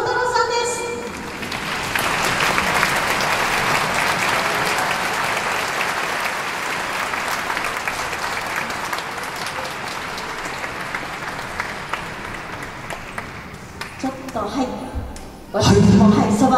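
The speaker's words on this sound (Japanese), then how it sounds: "拍手と同時に後ろから地響きのような音がしたんですけれども" A concert audience at a police band's autumn concert breaks into sustained, dense applause that swells and holds for many seconds, then thins out as a voice starts speaking at the end.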